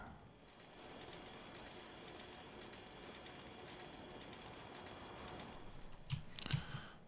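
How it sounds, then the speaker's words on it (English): Trains running in the video game Factorio, a faint steady rolling rail hum under continuous factory ambience, with a burst of rapid keyboard and mouse clicks near the end; no talk. "I have 3 trains picking up plastic."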